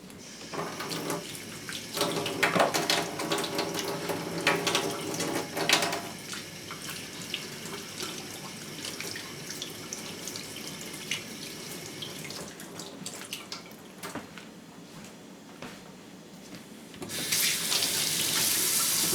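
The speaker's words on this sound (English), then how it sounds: "Let me wash my hand here so that we can mix it." Running tap water streams into a kitchen sink as hands are washed during sourdough starter preparation, a steady continuous splash with brief changes in flow, growing brighter and louder near the end.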